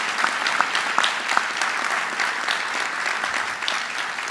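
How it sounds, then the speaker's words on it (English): A university convocation crowd claps in sustained applause, many hands producing a dense, crackling patter with individual sharp claps standing out, loud and continuous throughout. "let's give another round of applause to Ana"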